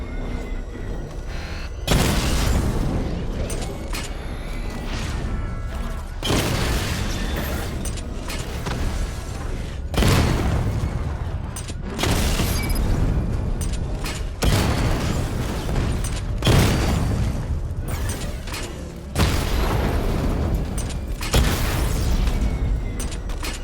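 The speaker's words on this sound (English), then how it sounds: "Charge up missile barrage to level 2 and destroy 4 active targets to complete diagnostic test." Repeated missile barrage explosions from the Batmobile in Batman: Arkham Knight, loud rumbling booms in a steady series of about five heavy bursts over continuous mechanical game noise, with no talking.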